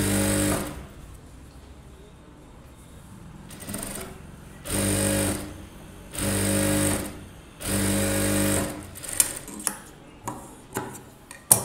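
A sewing machine stitches a blouse in four or five bursts of a few seconds each, loud and close, with short pauses between them and light clicks and taps near the end.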